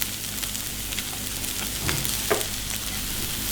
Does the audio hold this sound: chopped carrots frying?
yes